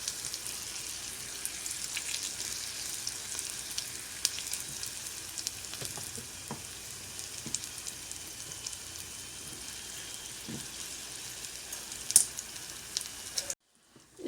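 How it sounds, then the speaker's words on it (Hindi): Green chillies stir fried in hot oil give a steady, soft sizzle that runs on for several seconds at low level, with a few faint clicks of stirring and a brief knock near the end. "इसको अच्छी तरह से स्टर फ्राई कर रहे हैं हम।"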